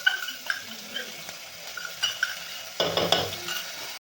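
Onion sautéing in a pan for an idli accompaniment, with soft sizzling and intermittent spoon scrapes and stirs, closer and busier near the end; a voice is faintly present.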